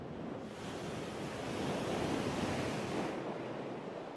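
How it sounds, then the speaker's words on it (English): Ocean waves breaking on a remote Pacific coral reef at Starbuck, a steady broad wash of surf that swells slightly in the middle before easing, heard alone with wind. "The richness of Starbuck's reef ends with the breaking waves."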